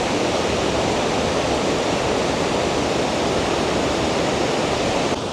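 Hog's Back Falls, a city waterfall in Ottawa, roars as a steady, loud, broadband wash of rushing water that fills the whole stretch without a break.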